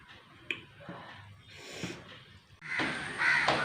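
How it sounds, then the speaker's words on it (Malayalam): Crows caw faintly in the distance over a noisy outdoor background, the calls growing busier and louder toward the end. "പട്ടിയിൽ നിറയെ കാക്കയുണ്ട്"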